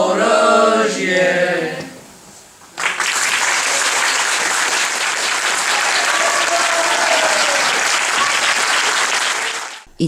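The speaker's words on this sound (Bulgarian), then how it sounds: "те заслужиха бурните овации на присъстващите" After a voice speaks briefly, loud, sustained applause breaks out and fills the rest of the clip as an audience cheers student singing and acting at a charity theatre evening.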